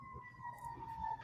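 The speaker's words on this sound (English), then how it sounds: "all you hear is fire sirens now" Fire engine siren heard from outside, a faint steady wailing tone in the distance under low background rumble.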